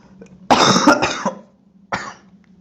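A person with a cold coughs close by, one harsh burst of several rapid coughs followed by a shorter single cough, over a low steady background hum.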